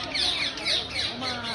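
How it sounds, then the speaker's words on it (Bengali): Native parrots at a zoo enclosure give harsh, repeated squawks close by, a loud scratchy chorus running the whole moment with a voice mixed in. "এগুলো হচ্ছে প্যারট, আমাদের দেশি প্যারট।"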